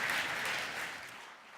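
Audience applause at a conference on stage at re:publica 2019, a broad hissing clatter of many hands that runs steadily, then tapers off toward the end.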